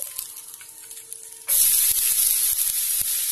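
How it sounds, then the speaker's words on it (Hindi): Onions dropped into hot oil in a pan, a sudden loud sizzle bursting in partway through and hissing steadily after a quieter start. "हमारे पास तेल गर्म हो चुका है, इसमें हम प्याज डाल देंगे"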